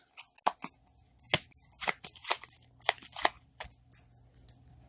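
Crisp, rapid riffling and slapping of a deck of trading cards being shuffled by hand close up, in quick irregular bursts.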